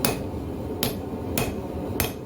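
Three sharp, ringing hammer blows on a hot steel blade edge held against an anvil, struck at about 45 degrees while forging a herb chopper, spaced roughly evenly and close, with no talk.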